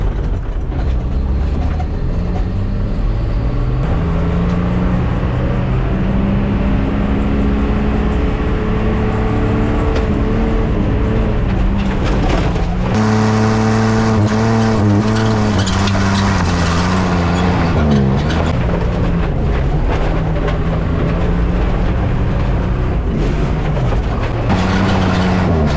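A 1979 Ford F-250 pickup with the 300 inline-six engine revs hard, loud and close, its pitch climbing and falling through several strong surges over a steady running drone.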